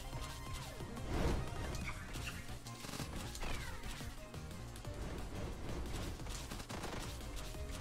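Rapid gunfire and blasting shots from the video game One Step From Eden, a dense, continuous clatter of bursts and impacts with one heavier hit early on, mixed with game music and no talk.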